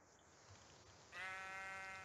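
A sheep bleats in a Minecraft-style video game, one drawn-out, wavering bleat rising clearly over a faint quiet background about halfway through.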